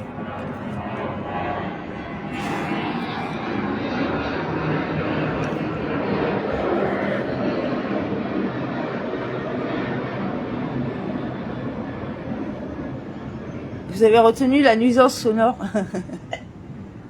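Airliner descending to land passes overhead as a steady, broad jet-engine roar that swells gently and holds, with a person speaking and laughing over it near the end.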